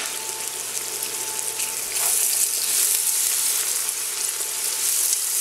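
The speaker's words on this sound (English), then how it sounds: "And we're going to saute until the onions brown." Onions browning in oil in a cast iron pot for Greek stifado, a steady close-up sizzle that swells louder partway through and keeps going with no talking.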